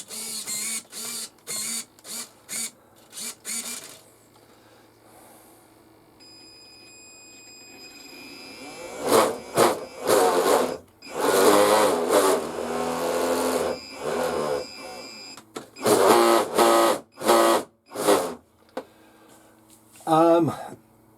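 A modified Ripmax Carlson RC tug model's electric motor whirs up in short bursts, followed by longer revving runs that surge and cut off repeatedly with a quieter stretch in between. The motor is close and fairly loud.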